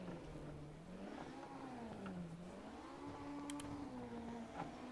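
A Honda Acty drives on after a downshift under braking, its small engine droning steadily with pitch rising and falling through the revs, close and continuous with no talk.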